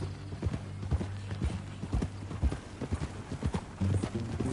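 Horse hooves clip-clopping at a steady walking rhythm in the video game Red Dead Redemption 2, close and fairly loud, with low tonal game sound underneath.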